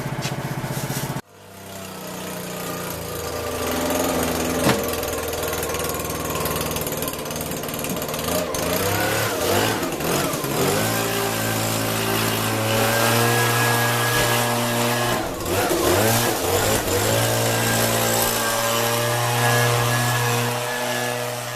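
A Toro 50 mower engine cold starts after an abrupt moment of quiet, then settles into a loud, steady running drone close by, with its pitch wavering slightly as it idles on.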